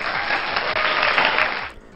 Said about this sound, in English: Insert applause again.